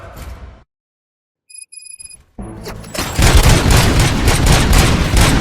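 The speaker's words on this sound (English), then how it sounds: "Gunshots?" Gunfire in the video game RoboCop: Rogue City: after a stretch of silence broken by faint beeps and scattered noise, loud, dense bursts of rapid shots and booms erupt and keep going.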